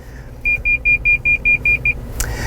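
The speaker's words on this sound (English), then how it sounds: "Now that beeping, there are sensors and all around the car" A 2020 Toyota Land Cruiser's parking sensors sound a run of eight short, evenly spaced electronic beeps at a steady pitch, clear over a low engine rumble off-road, followed by a brief rustle.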